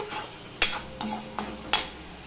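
Spices for an okra curry stir-fry in a pan, with a faint sizzle under four sharp scrapes and taps of a utensil against the metal, spaced unevenly and heard up close.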